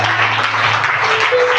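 Church congregation applauding and acclaiming God, a brief burst of dense, loud clapping close by with a low hum beneath.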